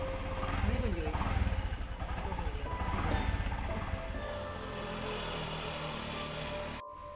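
A motorcycle passes on a village road, its engine buzz rising and fading over a few seconds, heard under people talking nearby.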